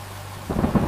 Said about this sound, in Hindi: एक रात गांव में कड़ाके की बारिश हुई।